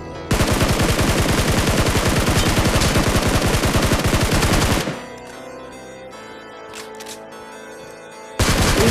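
Sustained rapid machine-gun bursts in a BGMI battle, loud and close for several seconds, then a quieter stretch with sparse distant shots before heavy firing resumes.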